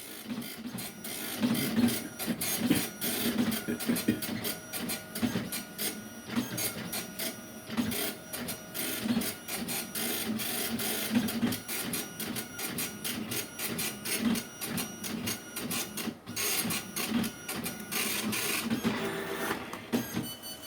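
An Epson PLQ-35 printer running a test page, with continuous rapid rattling print-head passes broken by short rhythmic pauses and paper-feed clicks, close and fairly quiet, with no one talking.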